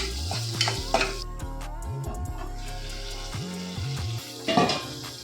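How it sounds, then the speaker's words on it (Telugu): Onions with ginger garlic paste fry in a covered pan for an aloo peas kurma, sizzling close and steady while a spoon stirs and scrapes the pan in short bursts. "ఈ ఆనియన్స్ అల్లం వెల్లుల్లి పేస్ట్ పచ్చివాసన పోయిందాక ఫ్రై చేసుకుందాం మూత పెట్టుకొని."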